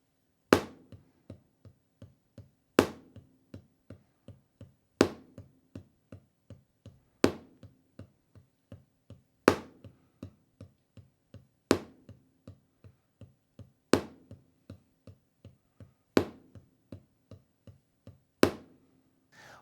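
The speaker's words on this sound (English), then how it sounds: "practicing your paradiddle-diddle now with the accent on the first right hand" Paradiddle-diddle sticking played alone on a drum or practice pad at a steady, moderate tempo, each group opened by a sharp accented right-hand stroke and followed by softer taps; crisp, close and regular, with no voice.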